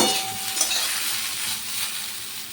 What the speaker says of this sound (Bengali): অল্প একটু তেল দিয়ে কম আঁচে ভাজবো